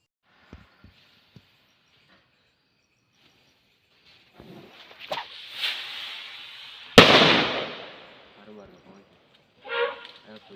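At night in a residential area, a few faint ticks give way to a loud firecracker explosion set off to drive away elephants that rips out and crackles away, with a voice speaking around it and another burst after.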